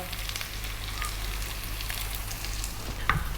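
Steady, close sizzle of seasoned potatoes frying in a pan over high heat for a spicy Indian potato fry, a continuous hiss with a faint scrape or clink near the end and no talking.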